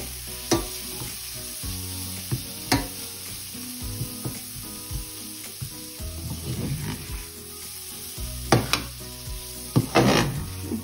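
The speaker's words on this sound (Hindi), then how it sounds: "अच्छी तरह से हिलाते हुए घी में जब सवैयां भुन रही हैं" Vermicelli roasts in ghee with a steady sizzle and frying crackle, broken by repeated scraping and clinking as a spoon stirs it around the pan, close and fairly quiet with no talk.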